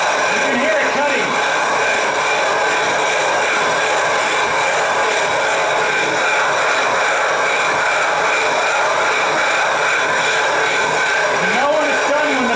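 A telescope mirror blank is ground against a tile tool during rough hogging, giving a steady, loud gritty scraping and rubbing that runs continuously with rhythmic stroke variations throughout.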